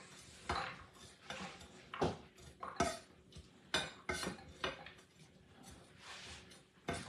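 Food is scraped into a pot with a utensil during home cooking, making a series of short scraping and clinking strokes at an uneven rhythm, close and fairly quiet, with no talking.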